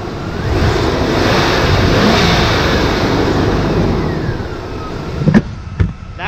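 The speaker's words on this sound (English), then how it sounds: "So let's do a quick little rev up." A Chevrolet K1500 pickup's engine revs up in one sustained rising-and-falling roar, loud and close, settling back toward idle with a couple of sharp knocks near the end.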